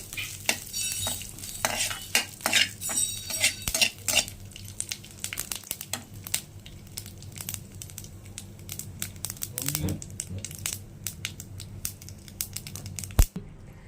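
Curry leaves sauté in a little oil for a lentil chutney, a soft crackling sizzle broken by repeated scrapes and clinks of a spoon stirring against the pan, close and alone without talk.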